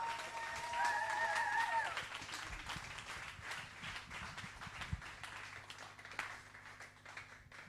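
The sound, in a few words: audience applause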